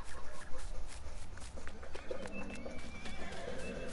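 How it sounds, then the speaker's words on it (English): A horse walking in the video game Greenwich Valley, with repeated hoof clip-clops over a steady outdoor ambience and faint bird calls. "Taking a horse out for a walk."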